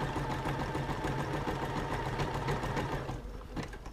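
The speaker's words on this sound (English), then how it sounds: "It reaches the end, sews a couple of lock stitches, engage the thread cutter, lift the presser foot, and we have a buttonhole." A Juki F600 sewing machine runs rapidly, stitching a buttonhole in an even, fast mechanical patter that slows and softens near the end as the stitching finishes, with no voices.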